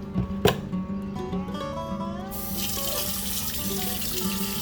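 Tap water running over a cast iron skillet in a kitchen sink: a steady, close rush of water, with a clank of the pan near the start and the flow growing stronger partway through.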